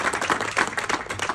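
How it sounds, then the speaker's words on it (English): Audience clapping at a ribbon cutting ceremony for Memphis Voices & Vote, a moderately loud round of applause with distinct individual claps audible within the crowd sound. "Give her a round of applause right now"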